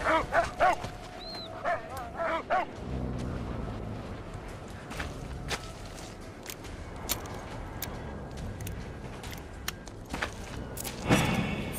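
Dog barks and yips in the Mad Max video game, several short barks and whimpers clustered near the start over a continuous game ambience, then quieter scattered thumps and a louder burst at the end.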